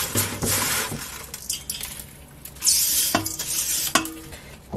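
Salted anchovies being packed firmly into a glass jar for homemade anchovy sauce, heard as close, irregular wet squelching and scraping with light clinks against glass and no talking.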